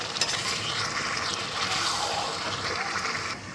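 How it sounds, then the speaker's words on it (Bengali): A vegetable curry sautéing in a pan on a home stove makes a steady, close hiss and sizzle with light stirring scrapes, holding constant throughout and ending slightly quieter, no speech. "দেখো কষানো হচ্ছে তরকারিটা।"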